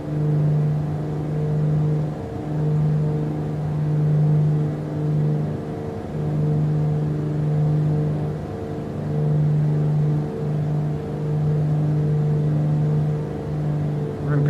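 Simulated piston aircraft engine from Microsoft Flight Simulator flown on a home-built cockpit, a steady droning tone with slight rhythmic swells, loud and continuous throughout.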